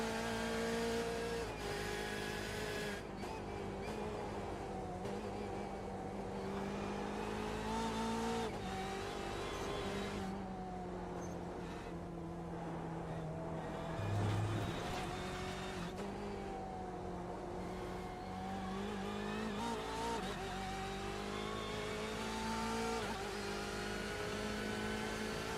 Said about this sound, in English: Let's just listen in and enjoy the BMW at its full pace.